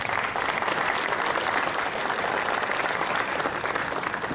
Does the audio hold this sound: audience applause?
yes